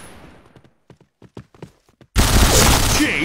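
Gunfire from the shooter video game Point Blank breaks in as a sudden loud, dense burst in the second half, after a stretch of soft, scattered short sounds.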